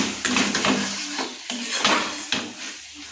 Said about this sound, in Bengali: এই যে চিকেনটা মশলাটা কষা হচ্ছে